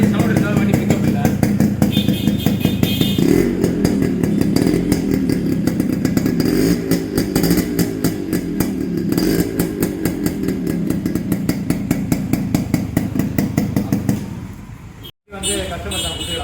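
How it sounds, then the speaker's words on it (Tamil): A TCX Japan model motorcycle engine runs steadily for the whole stretch, a loud, rough, close rumbling drone that keeps going without a break apart from one brief sharp dropout near the end. "வண்டி ஸ்டார்ட் பண்ணி காட்ட பாருங்க எப்படி சவுண்டு இருக்குது"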